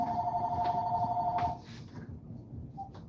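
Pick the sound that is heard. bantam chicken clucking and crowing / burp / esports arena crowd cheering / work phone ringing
work phone ringing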